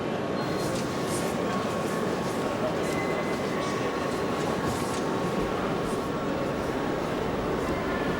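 Inside a Eurostar train bound for Paris, waiting at a station: a loud, steady rumble and hum fill the clip, with faint muffled voices in the background.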